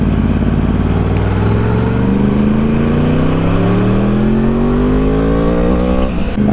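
A moped rides past close by, its engine revving loud and steady with rising pitch, continuous for several seconds before easing off at the end.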